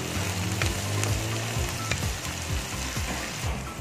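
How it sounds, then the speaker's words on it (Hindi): Onions frying in oil until brown for chicken kofta, a close, steady crackling sizzle with a few light stirring knocks, heard alone without talk. "अब इसको हम ब्राउन कर लेंगे अच्छी तरह से। प्याज हमारे ब्राउन हो जाए।"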